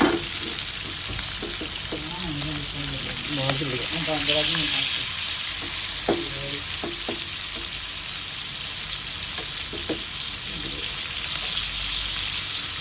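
Masala-coated fish sizzling and frying in a pan for a Kerala-style fry, a continuous close crackle with brief clinks and scrapes of handling, a voice talking briefly near the start.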